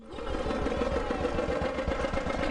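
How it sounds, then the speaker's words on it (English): A tractor engine in a preschool educational video game idles with a steady, low, chugging hum for a couple of seconds, with no talk over it. "Take four rabbits on a ride on a tractor."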